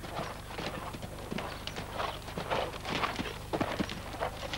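Horse hooves clip-clop in a steady cantering rhythm during a riding lesson, the repeated footfalls moderately loud and close, with no talk over them.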